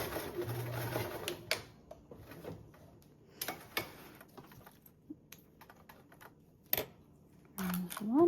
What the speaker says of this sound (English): I like to sew across the bottom of my webbing